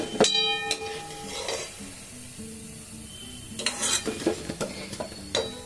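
Wheat-flour dough balls for jaggery kalojam sweets fry in hot oil with a soft, steady sizzle. A utensil scrapes and clinks against the pan, in sharper bursts at the start and again toward the end.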